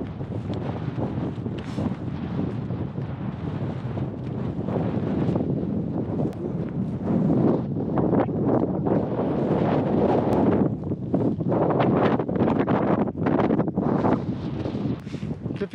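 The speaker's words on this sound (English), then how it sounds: "there's this super Arctic cold wind." Strong, steady, cold Arctic wind buffets the microphone in a continuous broadband roar during a Lofoten crossing, with gusts swelling louder in the second half; no voices.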